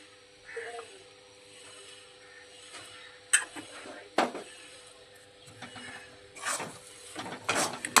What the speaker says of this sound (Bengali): আদা বাটাটা মটরশুঁটির সঙ্গে খুব ভালোভাবে নেড়েচেড়ে মিশিয়ে নেব